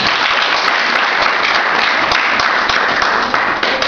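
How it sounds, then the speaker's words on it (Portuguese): A church congregation at an evangelical worship service claps loudly and steadily, a dense, continuous burst of applause with no talking. "No nome de Jesus, vamos receber o servo de Deus com palma de vitória"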